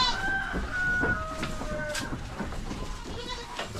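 Goats bleat on a small farm, several calls rising over a background of clucking chickens and faint yard noise, fairly close and moderately loud.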